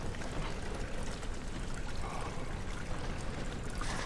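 Continuous flowing, pouring water in the game Amnesia: The Dark Descent gives a steady, fairly quiet hiss and splash with no breaks.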